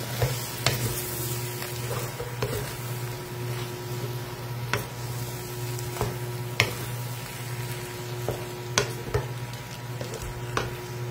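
A spatula stirs ginisang ampalaya with sotanghon in a hot pan, scraping and tapping at irregular moments over a constant low sizzle and a steady background hum, with no talk.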